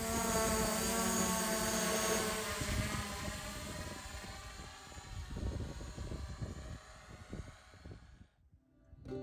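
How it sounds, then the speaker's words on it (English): A drone hovering in the air above an outdoor shooting range, a steady whirring buzz with gusty wind noise, fairly loud and continuous before cutting away near the end. "So we've got the drone up in the air now"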